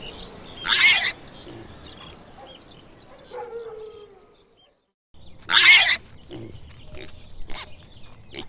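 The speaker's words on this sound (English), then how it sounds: "Pig." Farm pig sounds: two short, loud, harsh squealing grunts several seconds apart, close up, over faint background hiss and a high insect-like whine.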